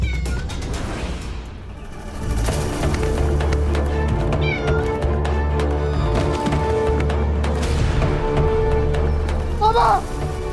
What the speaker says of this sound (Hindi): इस मनहूस बिल्ली को हटाओ यहाँ से